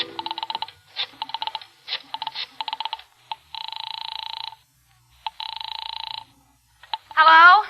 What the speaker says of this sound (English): I remembered there was a phone someplace, too, and I found it and crawled over to it and started dialing my number